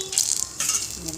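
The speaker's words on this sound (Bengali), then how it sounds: "এবার শুকনো লঙ্কা, তেজপাতা ফোড়ন দেব।" Dry red chillies and bay leaves hit hot oil in a kadai, bursting into two loud, bright sizzles that ease off between them, with no one speaking.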